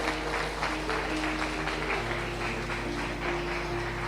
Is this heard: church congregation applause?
yes